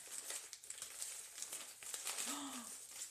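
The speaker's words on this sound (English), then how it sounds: "I've been using this knife to open up most of this package." A parcel of friend mail is cut open with a knife, giving a close, steady crinkling and rustling of packaging with small tearing crackles throughout.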